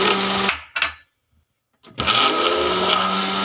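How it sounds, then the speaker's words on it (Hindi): An electric beater whisks eggs for apple tea cake batter, a loud steady whirring that cuts out for about a second, gives a brief blip, then starts up again and runs on. "अब दूसरा अंडा इसमें डालूंगी। और इसे अच्छे से बीट करेंगे 2-3 मिनट के लिए।"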